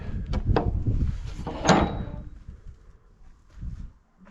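A door slides and scrapes open with a brief metallic clank, followed by quieter rattling and shuffling nearby.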